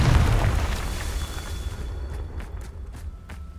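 A Confringo spell explosion in the video game Hogwarts Legacy: a loud, deep booming blast that rolls away into a fading rumble, with a few faint sharp crackles trailing behind it.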